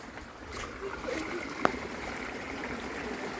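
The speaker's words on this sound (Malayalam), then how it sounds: "ഇതൊച്ച കേൾക്കുന്നുണ്ട്. ഇത് കണ്ടോ വെള്ളം ഒഴുകുന്ന നന്നായിട്ട്." A stream of water flows steadily through a paddy field in the rain with a soft, continuous rushing murmur, one brief sharp click breaking through midway.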